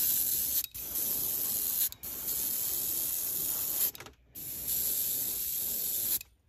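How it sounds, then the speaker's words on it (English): An airbrush fitted with new parts sprays opaque white paint onto a cicada crawler fishing bait, making a close, steady hiss in several long bursts broken by short pauses, with no voices. "this will be the first time I've used my airbrush since putting the new parts in"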